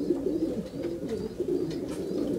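Pigeons at a loft coo in a soft, continuous low murmur, several birds overlapping at moderate distance with no speech.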